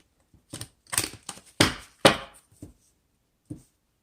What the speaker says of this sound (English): Two more good shuffles.